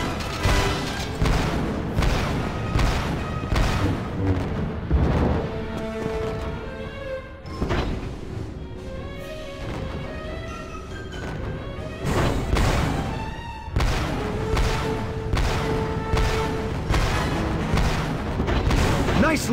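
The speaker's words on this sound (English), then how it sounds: "You'd better take control of that cannon." Heavy booming turret cannon fire thuds repeatedly in a dense battle against a cruiser in Star Wars Episode III: Revenge of the Sith on PS2, with explosions and a musical score layered throughout and occasional voices mixed in.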